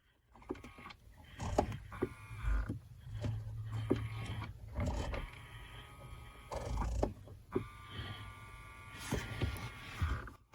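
A small electric motor in the heater controls of a Montana Uplander RV whirs in short bursts among clicks and handling noises, close and fairly quiet.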